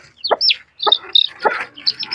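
Aseel chickens clucking up close, a series of short, sharp bursts of hen-like calls with brief pauses between them, no talking.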